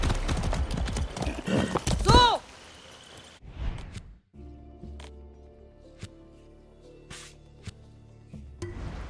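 In the video game Far Cry 6, horse hooves clop and a horse whinnies loudly at the start, then things settle into quieter scattered clicks over a low hum.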